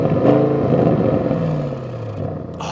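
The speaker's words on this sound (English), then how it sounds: "and of course the RS traditional oval tailpipes, which sound something like this." An Audi RS6 with oval RS tailpipes revs in dynamic mode, producing a loud, close, deep exhaust rumble that holds steady and then sags slightly before a brief sharp burst at the end.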